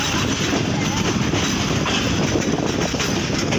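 A passenger train bound for Sukkur rumbles steadily and loudly up close, with continuous wheel clatter and rail noise filling the whole stretch and no break in the din.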